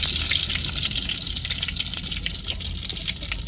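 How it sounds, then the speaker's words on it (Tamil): Mustard and fenugreek seeds tempering in hot oil for a Tamil brinjal kuzhambu, a close, continuous bright sizzle and crackle without talk. "இப்போ எண்ணெய் சூடேறிட்டு நம்ம தாளிச்சுக்கிருவோம்."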